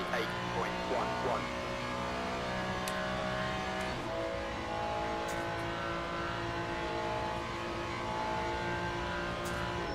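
A Ferrari race car in the Le Mans Ultimate sim racing game holds a steady, loud engine drone at high revs, with slight pitch shifts through gear changes and a few faint clicks.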